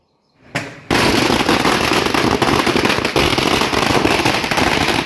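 Strings of firecrackers burst on a company premises as workers celebrate a union victory, starting suddenly and turning into a dense, loud, continuous crackling barrage of rapid pops.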